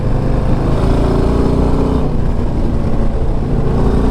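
A 2024 Harley-Davidson Low Rider ST motorcycle on the move, its engine giving a steady, loud, close rumble mixed with rushing wind, with no pause across the short stretch.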